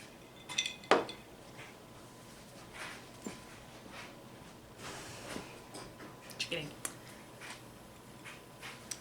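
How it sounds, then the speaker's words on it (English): A Negroni being stirred in a glass, scattered light clinks and taps of spoon against glass and ice, intermittent and fairly quiet, with people talking at points. "I will pass you off to Olivia now, who is stirring her drink"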